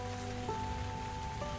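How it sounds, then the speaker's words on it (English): Gentle rain patters in the cozy video game Tavern Talk, a soft continuous hiss of falling drops under quiet, sustained musical tones. "Oh, and it's raining again."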